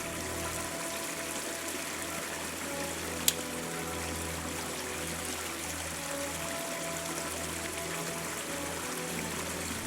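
A babbling creek with a small waterfall in the woods runs as a steady, even rush of water close by, alone, with a single sharp click partway through.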